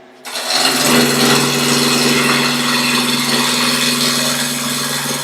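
A chisel cutting wood on a lathe while turning a cylinder for a bud vase; a loud, continuous rough whirring grind that starts abruptly and holds steady, with no speech.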